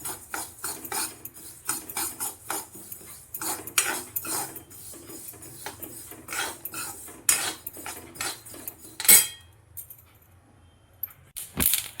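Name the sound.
sesame seeds being roasted and stirred in a pan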